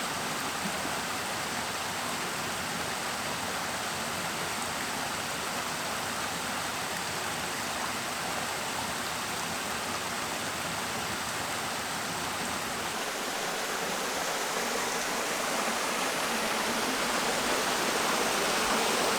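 Continuous rushing water of a river in the Bugey region of France, a broad even hiss and roar that grows slightly fuller toward the end, with no one speaking.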